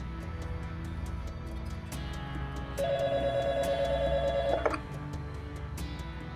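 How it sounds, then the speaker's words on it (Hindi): A steady electronic telephone ring sounds for a couple of seconds over faint background hum, then cuts off abruptly. "साकिब, मेरा फोन क्यों नहीं उठा रहा?"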